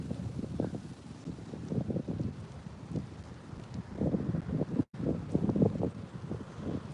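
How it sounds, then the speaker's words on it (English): Wind gusting outdoors on a hazy, foggy day, a steady low rushing roar with buffeting bursts against the microphone, fairly loud and alone with no talk. "I'm glad it's windy. Cools it off a lot."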